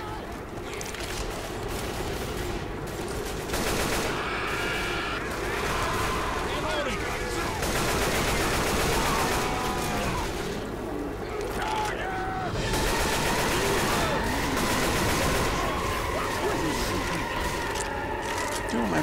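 Gunfire from the zombie shooter Left 4 Dead 2, a dense, continuous clatter of shots layered with game noise and a voice talking over it, steady and loud throughout.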